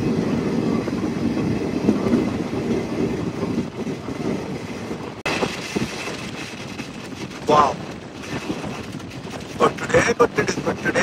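The Narasapur–Nagarsol Superfast Express rolls along steadily, heard from inside the train as a continuous rumble with wheel clatter and occasional bumps.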